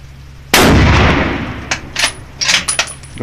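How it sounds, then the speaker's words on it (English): A single loud, close 30-06 rifle shot goes off at an outdoor shooting range, its sharp blast fading into a decaying echo, followed by a few fainter clicks and clatters. "Now that's a 30-06."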